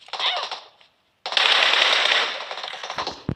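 Rapid bursts of PUBG Mobile gunfire, a short volley, a brief pause, then a longer sustained stretch of fast shots, loud and close.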